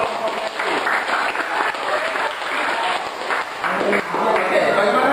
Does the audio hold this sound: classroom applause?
yes